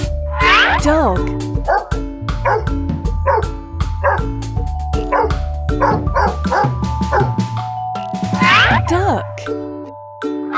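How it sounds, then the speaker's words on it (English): A dog barks repeatedly over a bouncy children's farm-animal song with music and voices, the barks rhythmic and fairly loud in the mix. "Dog."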